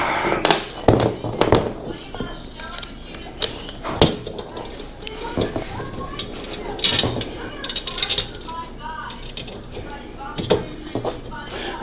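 Power drill driving screws into an RV screen door being converted to plexiglass, heard as short bursts of whirring and ratcheting spaced across the clip, close and fairly loud, with someone talking intermittently between them.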